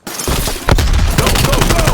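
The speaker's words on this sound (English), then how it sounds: "Light him up, Mason." Dense, rapid automatic gunfire in the Call of Duty Black Ops Cold War video game, loud and continuous bursts of shots with a voice briefly heard over the fire.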